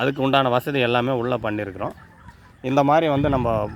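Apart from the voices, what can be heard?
None of the usual background noises is heard.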